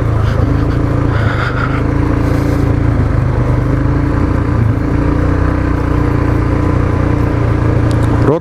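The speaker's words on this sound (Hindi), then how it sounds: "खतरनाक वाटर क्रॉसिंग।" A motorcycle ridden through a dangerous river water crossing on a Keylong to Deepak Tal stretch of a Ladakh bike trip, its engine droning loud and steady throughout with no talk.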